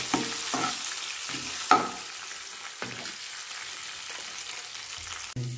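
Curry leaves frying in hot oil for a brinjal and tomato curry, a steady crackling sizzle punctuated by several stirring scrapes and knocks, with one sharp clatter near the end.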